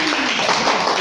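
A classroom audience at a micro teaching session claps for a student in a dense, even burst of applause lasting about a second.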